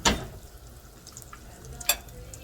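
Breaded eggplant slices frying in a pan, a soft sizzle under two sharper clatters of utensil against pan at the start and near the end.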